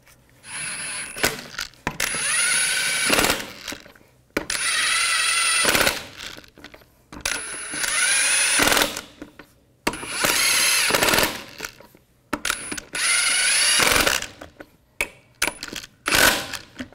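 A power tool fastens lug nuts on a 1999-2006 Chevrolet Silverado 1500 wheel in loud repeated bursts of rattling impact, each a couple of seconds long, with short pauses between.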